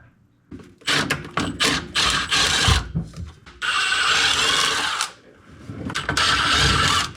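Power tools and wrenches working on the drive shafts under a 1970 Toyota FJ40 Land Cruiser during clutch replacement prep, with bursts of loud impact-gun rattling, a long steady whir and metallic clanks, all close.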